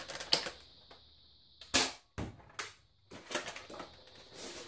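Toy foam dart blaster firing original darts head-on, giving a few sharp close pops with mechanical clicks and priming clatter between shots, quiet gaps around them.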